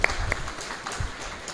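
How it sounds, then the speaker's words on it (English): A school audience claps for a student at a lecture gathering, a short, dense burst of applause heard at a moderate distance with no talk over it. "We will clap for him"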